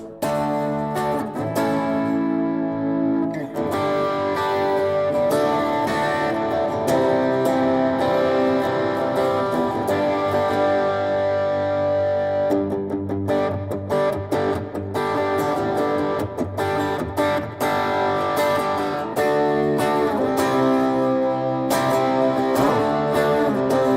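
An electric guitar plays through a Texas Toast Monticola overdrive pedal, with reverb coming from the amp. It rings with sustained, steady chords and notes for the whole stretch, close and full, with no talking.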